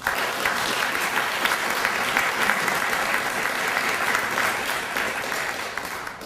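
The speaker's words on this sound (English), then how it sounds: "Can you join me in giving them another round of applause?" An audience at the 2011 Lillian Smith Book Award ceremony gives two authors a steady round of applause, a dense, even wash of many clapping hands lasting several seconds before tapering slightly at the end.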